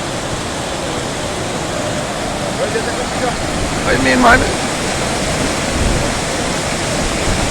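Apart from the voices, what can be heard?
floodwater rushing through a gully after Hurricane Elsa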